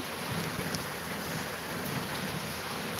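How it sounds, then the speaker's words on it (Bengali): Heavy rain pours down steadily in a dense, even hiss with a windy rush, continuous and fairly loud with no voices. "কত বৃষ্টি হচ্ছে"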